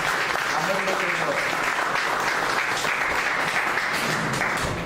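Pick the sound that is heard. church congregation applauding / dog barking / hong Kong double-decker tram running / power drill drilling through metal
church congregation applauding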